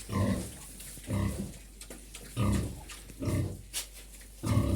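A sow with newborn piglets, just after farrowing, grunting in short repeated bursts, a few low snorty grunts spaced a second or so apart, close by with some high squeaks between.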